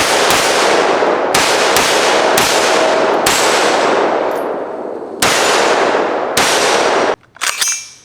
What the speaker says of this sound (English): Now the only problem with an AR-15 is how loud it is.